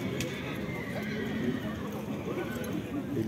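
A horse neighs amid the bustle of a livestock market in Karakol, with hooves clip-clopping and people talking nearby over steady crowd noise.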